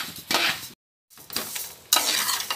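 Sesame seeds roasting in a pan, short bursts of dry scraping and rattling as they are stirred, separated by a brief silence, close and moderately quiet.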